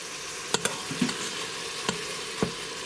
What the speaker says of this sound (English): keep crumbling the ground beef as the ground beef is cooking